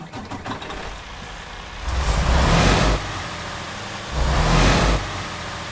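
Western Star 5700XE truck with a Detroit DD16 engine in American Truck Simulator, cranking and catching with two surging low revs separated by a rougher idle, close and loud, with no voices.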